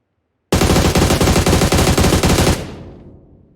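Machine gun fire from the mobile battle royale game PUBG Mobile: a loud, rapid sustained burst of about two seconds that ends abruptly and leaves a fading echo tail.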